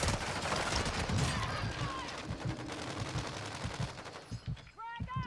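Rapid gunfire in the shooter game Warzone, loud bursts of automatic shots crackling in quick succession, thinning into a few scattered shots near the end, with game sound effects and some voices mixed in.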